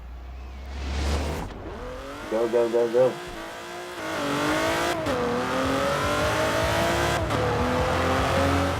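A Kia Stinger GTS with its V6 engine and exhaust in Forza Horizon 4 revs and accelerates through rising gear changes, with a brief stuttering burst mid-clip and a loud, near engine drone after, while a voice calls out briefly.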